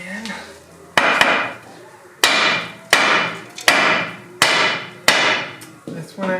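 Heavy hammer hitting the axle seal on a Subaru Outback with a TR580 transmission, about seven loud metallic blows in an uneven rhythm, each ringing and decaying, close up in a workshop setting.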